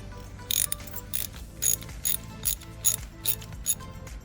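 Ratchet on a long extension turning a spark plug in a Jeep, a quick series of about ten crisp clicking bursts in an even back-and-forth rhythm, close and alone.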